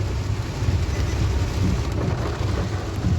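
Steady rain pours down in a continuous wash of broadband hiss with a deep low rumble at a gurdwara, loud and unbroken, with no voices.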